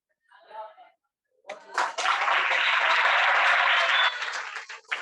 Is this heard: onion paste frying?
no